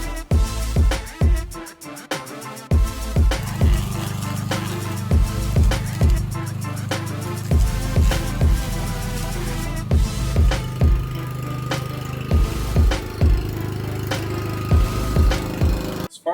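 A Troy-Bilt TB310C gas lawn mower cuts through an overgrown lawn, its engine droning steadily and close, with repeated dips and surges as the blades bog down in thick grass.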